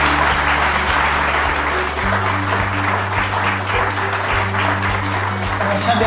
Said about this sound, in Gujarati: એકવાર જોશથી તાળીઓ વગાડી આપવાનું સ્વાગત છે